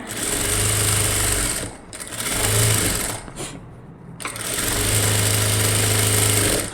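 An electric sewing machine stitches a double seam along a blouse cup dart, running in three close, steady bursts of rapid whirring, separated by short pauses.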